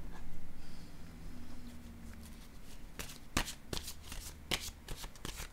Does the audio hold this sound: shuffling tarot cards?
yes